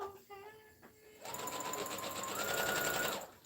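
Sewing machine stitching around the whole perimeter of a fabric piece, starting after a second of quiet handling and then running steadily with a rapid mechanical whir, close and clear.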